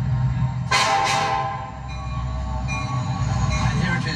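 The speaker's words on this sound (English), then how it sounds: "here it is, the train they call La Bestia, the Beast, heading north to the border with the United States" The Mexican freight train known as La Bestia passes close by, heading north. Two loud blasts of its horn sound over a heavy, steady rumble of rolling wagons.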